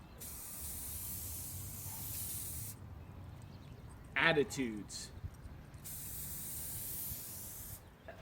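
Aerosol spray hissing in two long, steady bursts, with a brief spoken word and some clicks in the quiet gap between them.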